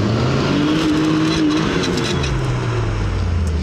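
A 4x4 off-road vehicle drives nearby during a casual off-road outing, its engine a loud, steady rumble with a rising tone partway through, continuous and without speech.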